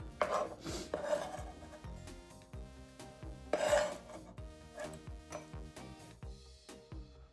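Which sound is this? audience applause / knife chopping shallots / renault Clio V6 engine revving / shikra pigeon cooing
knife chopping shallots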